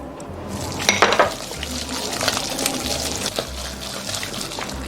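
Minced meat mixture for a squid and meat patty is stirred in a bowl as ginger-scallion water is worked in, giving close, continuous wet squelching and utensil scraping against the bowl, with a few louder clatters early on and no talking.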